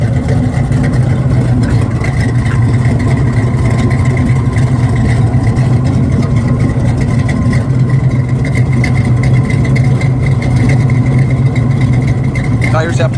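A cammed muscle car engine idles steadily up close, a deep, choppy rumble that continues without a break.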